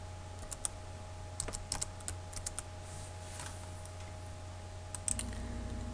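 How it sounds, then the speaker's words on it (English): C++ code typed on a computer keyboard, scattered quiet key clicks in short bursts over a steady low hum, faint and close. "After the if statement, I type my else statement."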